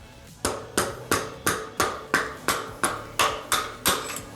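A rubber mallet taps a size 6 hex wrench in the front axle of a Scrambler Huntsman scooter, about eleven crisp, evenly spaced knocks close up, each with a short ringing decay.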